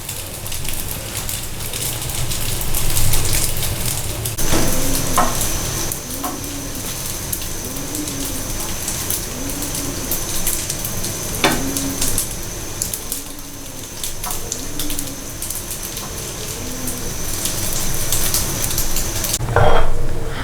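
Apple pie French roll frying in a pan, turned from side to side, gives a steady light crackling sizzle that runs evenly throughout with a few louder pops, with no talking.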